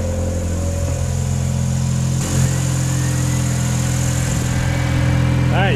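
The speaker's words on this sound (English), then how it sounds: "All right, so now I have both radiator fans, both oil cooler fans, and both fuel pumps." Jeep running with both radiator fans, both oil cooler fans and both fuel pumps on, giving a loud steady whirring drone over the engine hum, with a brief bump midway and a whine at the end.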